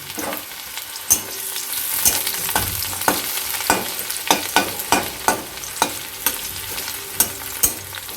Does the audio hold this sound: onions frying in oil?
yes